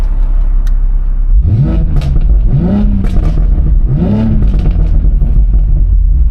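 A tuned BMW Z4 with downpipes and a Scorpion mid pipe exhaust revs in neutral, close and loud: three sharp blips rise and fall over a rumbling idle, with exhaust crackle between them.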